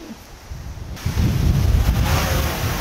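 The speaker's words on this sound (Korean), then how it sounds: "바람이 진짜 세요, 지금." Strong wind buffets a microphone outdoors during a drone obstacle-avoidance test. The gusts are soft at first, then loud, dense rumbling roars take over from about one second in and continue steadily.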